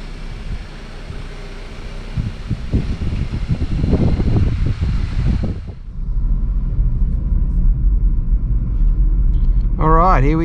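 A 2018 Skoda Octavia Sport is heard from inside as the car pulls away: a steady low engine rumble and road noise that swells, with a rising whine near the end.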